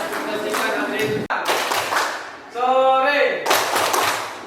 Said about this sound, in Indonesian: bisa kasih aplaus ya kepada